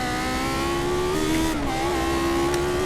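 A Lotus 79 Formula 1 car's engine drones steadily with a sustained, slightly wavering note in iRacing at Bathurst, close and continuous with no clear break for a gear change.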